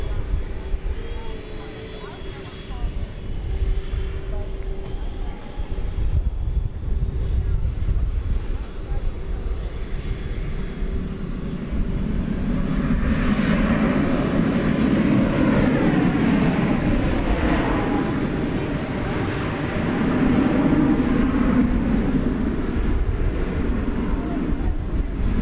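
An American Airlines Boeing 767 takes off from runway 18 left at DFW Airport, a steady jet roar that swells and rumbles louder midway, with a broad low drone throughout and voices talking early on.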